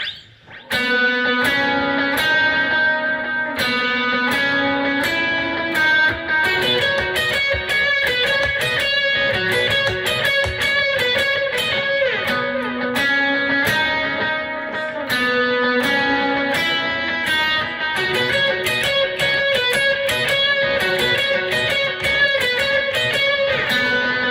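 Electric guitar plays a flowing lead line through a processing effect, notes ringing and overlapping with a shimmering, sustained tone, loud and continuous without speech.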